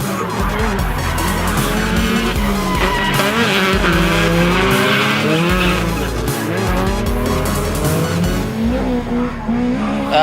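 A 1982 K70 sedan with a 4AG small-port engine and motorcycle carbs drifting at Meremere, loud sustained tire squeal over a revving engine rising and falling, close and continuous with no talk.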